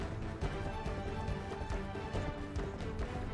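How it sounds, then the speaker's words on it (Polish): Horse hooves clip-clop steadily in a fantasy video game, a quick, even run of thuds at moderate level, blended with game sound and no clear talk. "to jest mój koń."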